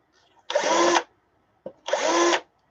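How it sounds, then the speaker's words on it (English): A power drill bores through material in two loud, close bursts of about half a second each, separated by a short pause, with no talking. "Sorry for the noise. I don't know how loud that drill is going through there."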